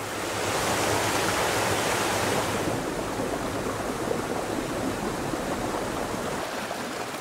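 Creek water rushes steadily past a creekside campsite in New Hampshire, a continuous broad wash that is louder at first and then settles, with no talk over it.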